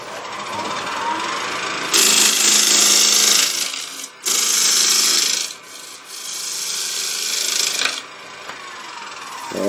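A lathe gouge cutting down the outer rim of a soft, punky wood blank, producing loud, close scraping rasps in long sustained passes with brief pauses between cuts.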